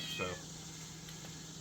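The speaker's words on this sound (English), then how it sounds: "sorry for the cat crying." A feral cat at a garage meows once, fairly close, over a steady low hum, and a voice says a single short word.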